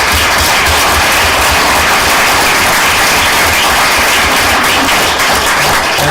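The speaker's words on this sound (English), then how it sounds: "if we can all have a round of applause for Colonel Doug Shipman." Applause fills a town council meeting room: a dense, steady wash of clapping from many people that stays loud and even throughout, with no talk.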